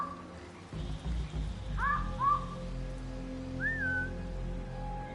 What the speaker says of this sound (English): Yep, this is a good time to lure a guard.